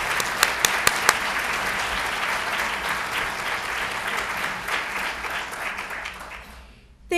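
An audience at a teaching excellence awards ceremony breaks into sustained applause, a few loud nearby claps rising over a broad, steady crowd clapping that fades toward the end.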